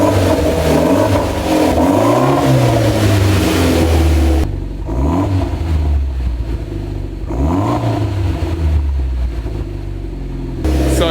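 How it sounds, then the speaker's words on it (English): Mitsubishi Lancer Evolution X fitted with a test pipe, revved repeatedly while stationary: several rising and falling revs with a steady idle between them, close and fairly loud, with no talking. "Go ahead and rev it a little bit."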